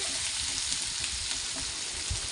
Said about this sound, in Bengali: একটু নাড়াচাড়া করে আলুগুলো 10-15 সেকেন্ড মতো ভেজে নিলাম।